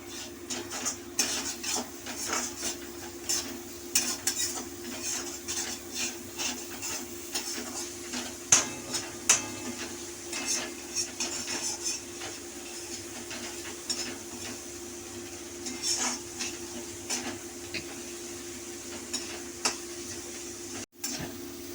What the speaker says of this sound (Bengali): আমি একটু টমেটো এই কুচোনো এই মশলাতে দিয়ে দিলাম, দিয়ে কষবো।